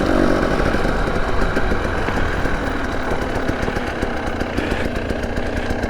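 A 2021 Husqvarna TE 300i motorcycle engine runs steadily up close, a continuous buzzy mechanical drone with rapid firing pulses and no break.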